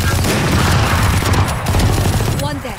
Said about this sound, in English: Reload, you got 3 bullets, Rin.